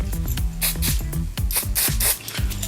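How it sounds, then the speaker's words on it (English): Short hissing bursts of spray product aimed at the lace hairline of a wig, several quick pumps close to the nozzle over steady background music. "Spray that hairline. Spray right at the edge of that lace."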